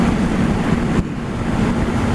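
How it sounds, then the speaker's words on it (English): Wind blast roars over a rider on a Yamaha MT03 motorcycle at 70 mph, a loud continuous rushing noise with a brief dip partway through. "obviously the wind blast is hitting me quite a lot in the chest"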